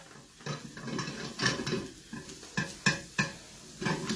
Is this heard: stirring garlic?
yes